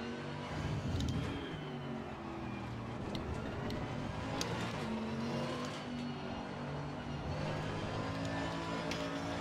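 Porsche race car engine in the Assetto Corsa Competizione racing game, a continuous loud rumbling drone with shifting revs and faint tire noise, steady throughout.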